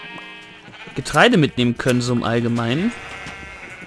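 Sheep bleating in the Minecraft video game, several wavering bleats in quick succession, heard alongside someone speaking German.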